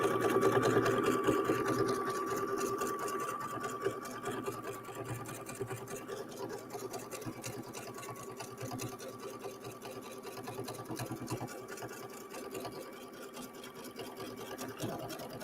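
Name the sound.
embroidery machine stitching through layers of denim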